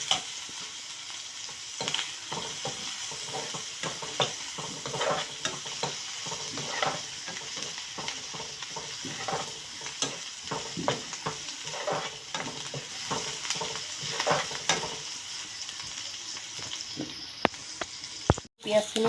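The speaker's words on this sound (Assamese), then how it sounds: "এইখিনি অকণমান ৰঙচুৱা হোৱালৈকে ভাজি ল'ম।" Onions frying in a pan with turmeric, meat masala and chicken masala for a broiler chicken curry with mustard greens: a steady close sizzle broken by frequent scraping stirs, continuous throughout.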